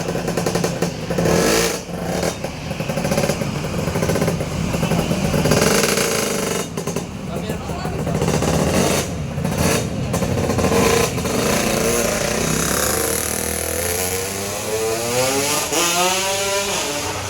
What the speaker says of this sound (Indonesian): Joki jajal motor nih.